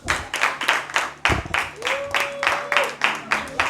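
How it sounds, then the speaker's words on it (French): Congregation at an Easter children's program clapping for the children, a quick run of rhythmic claps with a voice and a sustained vocal tone sounding over them. "Et puis on applaudit pour les enfants"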